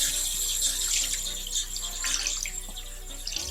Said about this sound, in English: when you're rinsing your sponges, you rinse until you don't see any more of those soap bubbles coming out